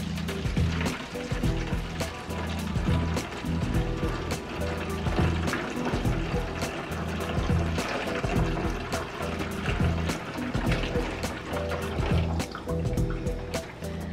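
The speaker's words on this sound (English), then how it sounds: "now I'm going to pour 16 ounces of orange juice into my jug" Orange juice pours steadily into a jug for a long stretch, a continuous splashing gurgle with a low rumble underneath.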